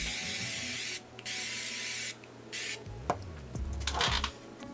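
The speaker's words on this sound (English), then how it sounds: "I'm gonna do another spray." Pat McGrath Skin Fetish Glass 001 setting spray misted onto a face in several short, close, hissing bursts, with quieter handling rustles between them.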